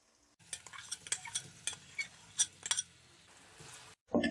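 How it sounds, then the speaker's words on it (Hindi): Finely chopped onions fry in leftover chicken oil for a karahi, with a soft sizzle under repeated clinks and scrapes of a metal spoon against the pan, close and fairly quiet, ending in a louder bump. "2 से 3 मिनट फ्राई करेंगे। प्याज हमारे हल्के से फ्राई हो गए हैं।"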